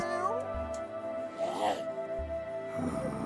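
A cat creature in the Chimeraland video game gives short meows over a steady hum of in-game background tones, fairly close and moderately loud, with faint voice-like sounds around it.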